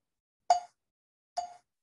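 Two short, hollow clicks about a second apart, crisp and close against silence, a metronome marking quarter-note beats.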